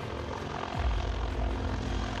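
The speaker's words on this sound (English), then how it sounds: "The Mi-28 is a Russian all-weather, day-night, military tandem, two-seat anti-armor attack helicopter." Mil Mi-28 Russian tandem two-seat attack helicopter flying, a low engine and rotor rumble that swells and deepens partway through and holds steady, no voices.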